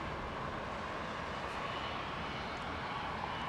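A jet airliner rumbles at Heathrow Airport in a steady, broad roar that stays level throughout, heard from a distance with no talking.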